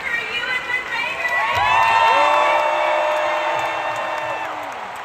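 Convention crowd at Star Wars Celebration 2022 cheering and screaming loudly for Hayden Christensen and Ewan McGregor taking the stage, a sustained roar of high-pitched shouts and whoops that swells and holds.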